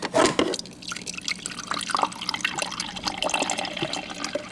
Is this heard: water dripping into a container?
yes